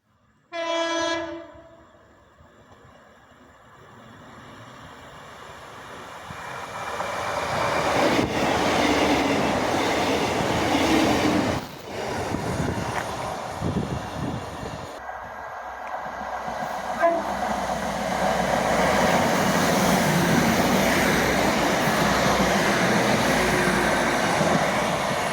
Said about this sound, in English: I really wanted to get back to the station in time to see trains to Manchester Piccadilly and Buxton speed through Middlewood Station.